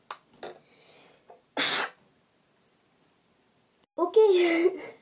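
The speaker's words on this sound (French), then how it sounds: "j'éternue." A single sharp human sneeze bursts out loudly and close mid-clip while a woman makes a bath bomb, with brief speech before it and talk resuming afterward.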